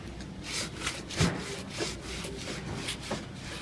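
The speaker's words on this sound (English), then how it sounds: "you just want to take a little sanding block. You just want to sand it down." A small sanding block scrubs across hardened Bondo body filler in repeated back-and-forth strokes, close and fairly loud, with an uneven rasping rhythm and no talk.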